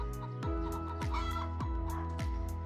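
Chickens cluck in a steady repeating rhythm, several short calls close by, with a low droning backdrop.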